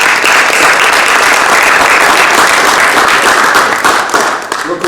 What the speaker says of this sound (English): I think you need to give yourself a round of applause because this is awesome